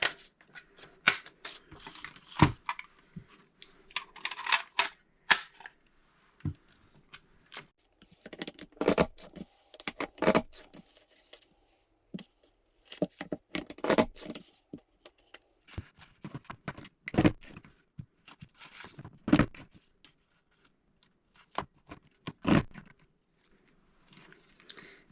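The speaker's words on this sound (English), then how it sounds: "So when you're finished cutting, you get 2 beautiful Rickrack strips." Scissors cutting sheets of paper into rickrack strips for scrapbooking, close, irregular crisp snips and paper rustles with pauses between bursts.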